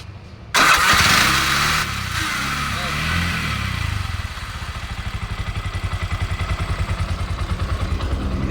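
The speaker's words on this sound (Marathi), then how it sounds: "चालू करा गाडी." A CNG auto rickshaw's starter whirs loudly for over a second before the engine catches and revs, then drops to a regular chugging idle up close; a voice speaks briefly.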